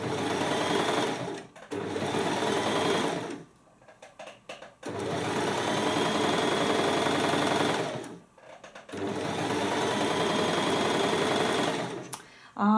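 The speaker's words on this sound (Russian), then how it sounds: "и я обметываю свой срез, немножко подрезаю ткань" Sewing machine overcasting and trimming the raw edge of silk blouse fabric, running in three long steady bursts separated by short pauses, loud and close with no voices.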